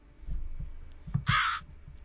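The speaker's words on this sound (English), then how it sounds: "Mr. Crow, is that you?" A single harsh crow caw rings out in the Rusty Lake video game's dark wood, a short, bright burst set over a slow, low throbbing like a heartbeat.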